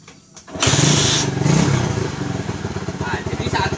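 A motorcycle engine sitting in neutral cranks and catches, then settles into a steady, close, loud idle with a rapid rhythmic putter.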